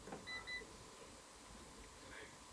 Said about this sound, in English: You press the button here, it just beeps and says blocked